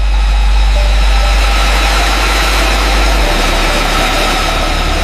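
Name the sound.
jet engine starting to roar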